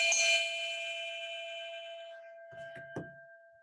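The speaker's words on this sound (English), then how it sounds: "It is time to ring our bell. So I'm playing it through my phone." A club bell played back through a phone speaker gives one bright ring whose steady tones slowly fade, followed by a few soft dull knocks near the end.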